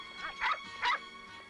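Two short dog barks, faint and a little distant, spaced about half a second apart over a quiet background in a French crime drama scene.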